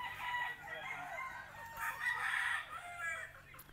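Rooster crowing with drawn-out, fairly quiet calls, with a few gamecocks crowing and clucking at a moderate distance over a rural yard.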